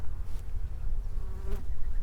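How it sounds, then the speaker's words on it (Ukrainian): Honeybees buzzing steadily around a hive while bee packages are being assembled for sale, a continuous close droning hum with a couple of louder passes. "Я взагалі не знаю, що зараз з тою бджолою."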